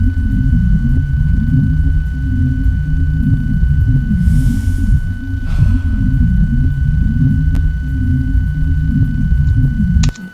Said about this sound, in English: so there's the sound of that monstrous atomic machine creating atmosphere